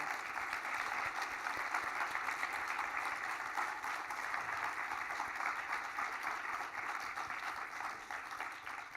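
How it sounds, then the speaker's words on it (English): Steady applause from an audience at an awards ceremony honoring Dr. Joy, fairly faint and distant, a continuous even patter of clapping that holds for the whole stretch without voices. "Let's give a round of applause for Dr. Joy."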